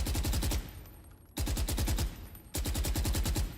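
A suppressed M4 rifle fires in Counter-Strike in three rapid automatic bursts, each a dense, loud rattle of shots with short gaps between, and no talking.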